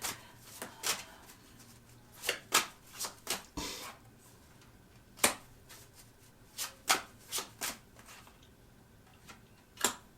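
Tarot cards being shuffled and handled up close, producing a series of soft, irregular riffling snaps and slaps in short bursts over a quiet background.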